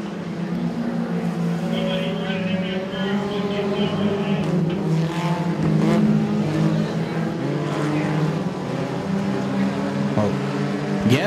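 Compact race cars circle Moler Raceway Park during a heat race, their engines a steady, loud droning roar that swells as they pass. An announcer talks over them throughout.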